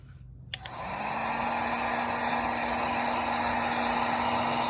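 A heat gun switches on with a click and blows a steady, loud rush of hot air across adhesive on a car body panel, holding a constant whine with no talk.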